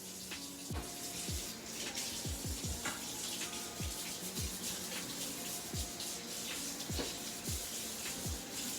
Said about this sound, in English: get some clean water going